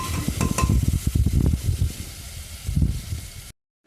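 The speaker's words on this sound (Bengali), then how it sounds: "দেখো দিয়ে ভালো করে আমি একটু কষিয়ে নিচ্ছি।" Mutton is stirred and sautéed in a pressure cooker, with a steady sizzle behind repeated scraping and clattering strokes of a spoon against the metal pot, close and fairly loud, ending in sudden silence.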